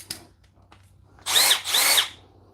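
A compact Milwaukee cordless drill whirs loudly up close in two short bursts, high-pitched motor whine rising and falling, after a few quiet clicks.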